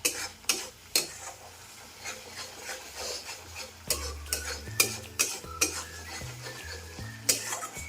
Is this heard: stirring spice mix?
yes